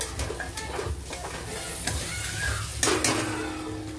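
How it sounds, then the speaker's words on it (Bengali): Garam masala spices being stirred in a cooking pot for chicken yakhni pulao, with scraping and shuffling strokes over a low sizzle and a louder clatter near the end, with no voices. "তো এখন ভালো করে নাড়াচাড়া করব।"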